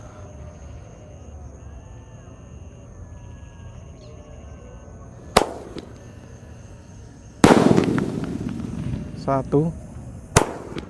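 A 100-shot 1.9-inch Roman candle fires at night during Eid al-Fitr takbiran celebrations, with a few sharp, loud bangs spaced seconds apart followed by crackling. Insects chirp faintly beforehand and a voice speaks briefly.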